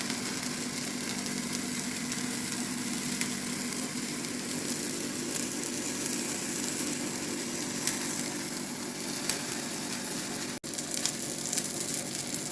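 Continuous sizzling and crackling of pastries frying in a pan over medium heat, steady and fairly close, with no talking.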